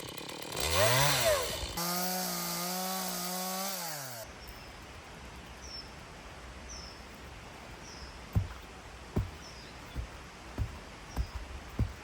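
A chainsaw revs loudly, its engine rising and falling, then cuts out, leaving quiet background with a series of sharp knocks.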